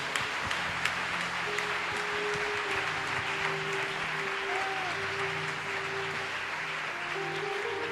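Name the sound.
congregation applauding the word of God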